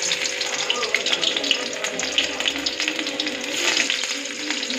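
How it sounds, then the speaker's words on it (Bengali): Sliced onion sizzling in hot oil in a home kitchen, a steady crackling hiss with scattered pops, fairly close and continuous throughout. "তো এখানে আমার তেলটা গরম হয়ে গেছে। প্রথমে আমি দেবো পেঁয়াজটা"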